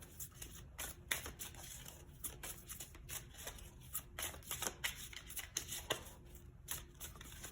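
Tarot cards being shuffled and drawn during a love reading, a steady run of crisp papery riffles and flicks close to the mic with no talking.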